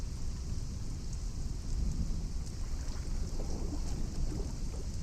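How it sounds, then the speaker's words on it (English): Steady rain in the Potionomics video game, a dense constant hiss with faint low rumbling beneath, continuous and fairly loud with no voices. "it's still raining"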